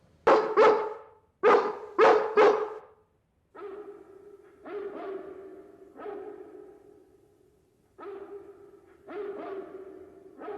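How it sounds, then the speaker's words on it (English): Dogs bark in the animated film 101 Dalmatians: first a loud close series of sharp barks, then a fainter, more distant dog answering with repeated lower barks, with no talk. "Pongo starts barking out before eventually getting a response and knows exactly which dog was responding to him."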